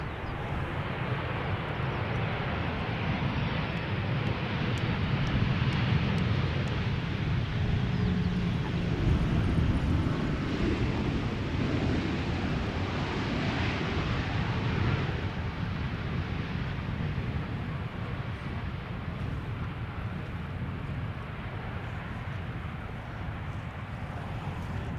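A KLM Boeing 737-800 arriving from London Heathrow at Schiphol Airport: a steady, broad jet roar that holds loud for the whole stretch, rumbling heavily in the low range with a faint hiss on top.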